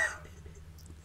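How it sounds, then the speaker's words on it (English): A dog named Gaucho barks in short bursts at the start and end of an otherwise quiet indoor stretch, with a low steady hum in between. "That's my dog barking."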